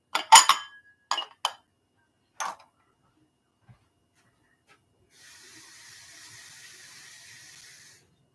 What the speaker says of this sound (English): I'm just going to rinse it off first.